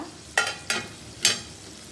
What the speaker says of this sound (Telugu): చూసారా ఉల్లిపాయలు టమాటా మగ్గుతున్నాయండి